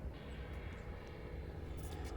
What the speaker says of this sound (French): il y a pas mal d'avions qui vont passer pendant le match. Donc, désolé d'avance pour le bruit.